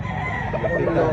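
A gamecock crows loudly and close by in one short burst at a rooster expo in Mantalungon, Barili, Cebu, with some background voices in the mix.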